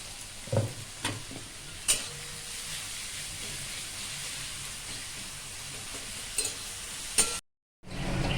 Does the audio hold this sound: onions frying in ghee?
yes